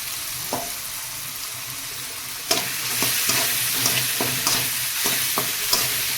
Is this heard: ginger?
yes